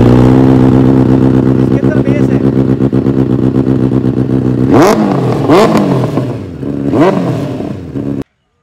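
A Benelli 600i motorcycle engine idles loud and close with a deep rumbling burble, then revs up to 4000 RPM in several sharp throttle blips that rise and fall before it cuts off abruptly.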